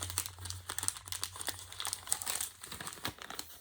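Gift wrapping paper is crinkled and torn open close by, a quiet busy stretch of rustling, crackling and short rips with a low hum underneath.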